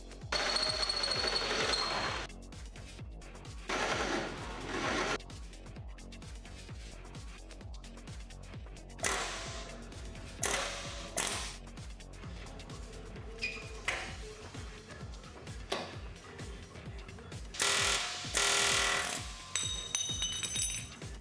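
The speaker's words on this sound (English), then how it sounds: "Drill out spot welds." Spot welds being drilled out of a car's frame rail to remove the OEM mount bracket during a K20A2 engine swap into an EK chassis: repeated bursts of high-pitched drilling, several separate runs with short pauses and metallic clinks between them, fairly close.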